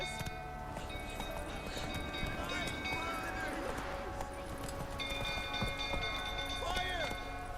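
Geralt's horse Roach trots in The Witcher 3, its rhythmic hoofbeats running steadily under game music, ambient noise and a voice speaking.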